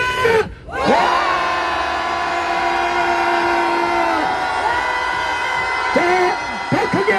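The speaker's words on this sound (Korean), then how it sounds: "다 같이 함성 10초간 발사!" Protesters against impeachment outside the Supreme Court raise a long, sustained roar together, many voices holding one loud note for several seconds. A voice cuts in and out at the start and again near the end.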